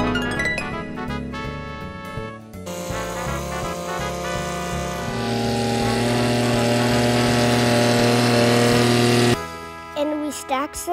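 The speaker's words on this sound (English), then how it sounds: "And I also drove a tractor." A steady mechanical engine drone runs throughout, loud and close, with a rougher revving stretch at the start and a shift in pitch near the end.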